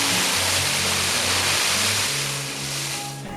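Water sprayed from a hose to soak down a bed of sand and gravel before a concrete pour for a carport conversion, a steady loud hiss of rushing water throughout with a low hum underneath.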